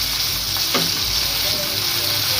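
Onion paste drops into hot oil in a pan for a Rupchanda fish curry, giving a steady, close, continuous sizzle and frying hiss throughout with no talking.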